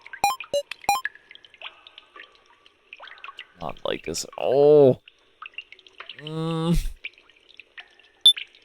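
Water drips and pours in a video game: a few sharp drip plinks, then two longer gurgling pours, each about a second long, clear and close, with a voice speaking briefly between them.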